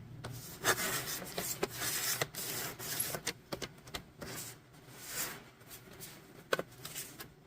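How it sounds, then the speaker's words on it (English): Scissors cut through small pieces of paper for journal pockets, giving a run of quiet, uneven snips and rustles at close range. "So we're just going to cut them in half."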